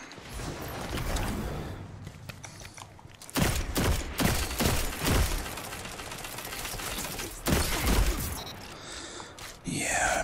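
Weapons fire in the game Song of Justice VI, a long-range scout mech firing in loud repeated bursts separated by brief quieter gaps, mixed with mechanical effects and some speech.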